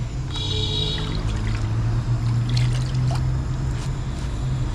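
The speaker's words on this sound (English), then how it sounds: "I'm just gonna add little bit water because it's not enough." Water poured into a pot of ewedu (jute leaves) cooking on a stove, a steady low trickling pour running nearly five seconds, close and fairly even, with no talk over it.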